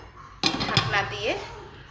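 A metal lid clanks onto a beef biryani pot, a sharp clatter followed by a second clink and brief ringing, with a voice speaking over it.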